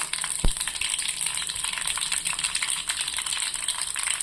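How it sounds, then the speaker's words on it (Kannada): Mustard seeds and cumin tempering in hot oil for a tangy mango rice gravy, a steady bright sizzle with faint crackles and one sharp clink of utensil near the start. "ಸಾಸಿವೆ ಜೀರಿಗೆ ಹಾಕ್ತಾಯಿದ್ದೀನಿ"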